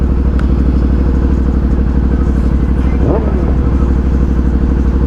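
A nearby motorcycle revs on the road, its engine note briefly rising over the steady drone and wind rush of another bike being ridden alongside.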